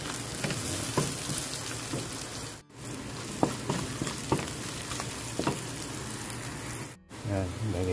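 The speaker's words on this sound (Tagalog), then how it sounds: "Bawang, garlic, roasted, tostado na yan." Garlic fries in hot oil in a pan, a dense steady sizzle with occasional stirring clatters, loud and close, briefly cut off twice.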